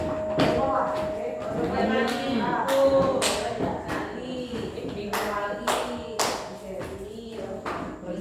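Sharp hand claps ring out in a classroom setting, several distinct claps spaced in a loose rhythm, close and clear, mixed with people speaking around them.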